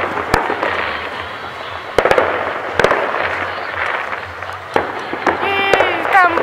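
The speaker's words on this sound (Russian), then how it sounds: "Вон там гуляют одиночные фейерверки." New Year's Eve fireworks go off in the distance as scattered sharp bangs and crackles over a broad outdoor hiss, while nearby voices murmur throughout.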